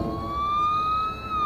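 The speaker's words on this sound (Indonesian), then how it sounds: "mobil ambulans tiba-tiba datang" An ambulance siren wails steadily and loudly with a sustained rising pitch over low road rumble, close by and with no voices.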